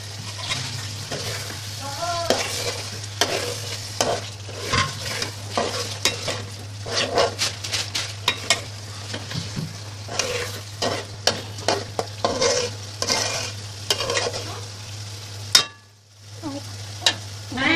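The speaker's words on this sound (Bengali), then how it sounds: "জিরের গুঁড়া ধনিয়ার গুঁড়া দিয়ে মশলাটা কষিয়ে দিলাম" A Bengali masala of cumin and coriander powder sizzles in a pan for a potato and tilapia curry, with steady frying hiss and repeated scraping stir strokes throughout, briefly dropping out near the end before resuming.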